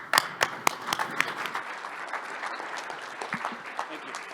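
An audience at a soybean summit conference applauding to welcome speakers, a burst of crowd clapping with a few sharp close claps, tapering off toward the end while a voice speaks.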